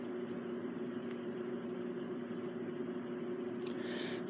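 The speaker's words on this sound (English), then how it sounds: "I apologize because I have my fan on in my room" An electric fan runs in a room with a steady, low, even whir that continues without change. A faint brief rustle comes near the end.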